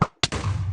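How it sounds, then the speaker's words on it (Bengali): Explosions in the Minecraft Nether during survival play, two sharp booming blasts in quick succession, the second trailing into a low rumbling decay. "আবার ব্লাস্ট করে দিল।"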